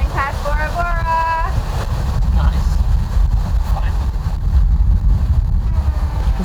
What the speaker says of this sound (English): How's it feel to be sailing past Bora Bora?